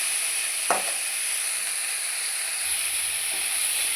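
Coriander and mint leaves sauté in a pan for a chutney, giving a steady close hiss of sizzling oil, with one brief clatter of stirring early on and a light rumble joining near the end.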